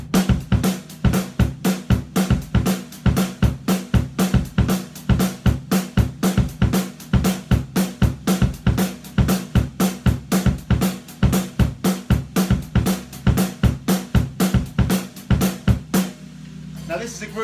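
Up-tempo gospel groove played on a full drum kit in the style of a pop song, with steady, driving kick, snare and bright cymbal hits repeating loud and close for about sixteen seconds before stopping.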